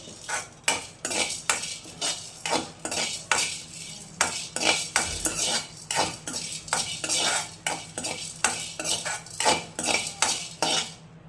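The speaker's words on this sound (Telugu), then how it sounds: "బాగా వేయించుకోవాలండి. కరివేపాకు బాగా వేయిపోవాలి." A utensil scrapes and knocks against a pan in a steady rhythm while curry leaves fry and are stirred, a soft sizzle sitting underneath the repeated clatter.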